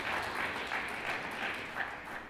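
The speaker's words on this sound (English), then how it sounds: "Round of applause again for these guys." Faint, distant applause from a small audience, a soft steady patter of clapping that fades slightly toward the end.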